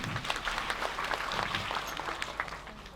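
Audience applause for the Ministry of Culture at a Thai talk event, a steady dense patter of many hands that holds at an even level for about three seconds.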